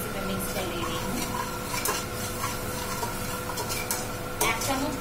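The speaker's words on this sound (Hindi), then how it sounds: "इसको फिर से मैं मिक्स कर ले रही हूँ" A spoon stirs Kashmiri chili powder into ghugni in a pan, giving a steady scraping and clinking with a soft sizzle underneath and occasional sharper knocks against the metal, close and alone.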